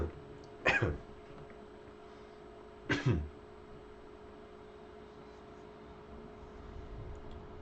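Two short, sharp coughs, one near the start and another about two seconds later, over a quiet steady hum with a faint tone.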